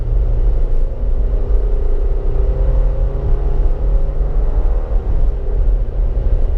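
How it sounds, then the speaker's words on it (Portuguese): A Nissan Versa accelerating on a highway, its engine a steady loud low rumble mixed with road and wind noise, continuous and close, with a slight rise in pitch. "Chegando a 60, aplica pedal, vamos ver ele chegando no tempo."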